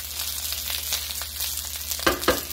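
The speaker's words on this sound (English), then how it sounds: "And we're going to let this get to frying here." Long grain white rice fries in a pan for fried rice, giving a steady close sizzle with a few louder stirring scrapes near the end and no talking.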